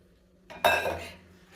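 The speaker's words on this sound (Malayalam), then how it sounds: "നല്ലോണം ഇളക്കി കൊടുക്കുക" A utensil knocks and scrapes against a cooking pot while shark curry is stirred, one short close clatter that quickly fades.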